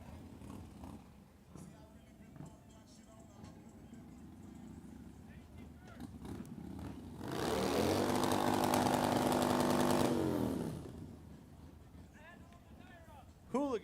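A motorized drift trike engine screams at high revs for about three seconds while warming its tire at an open drift jam, loud and close, with quieter background noise and an announcer talking before it.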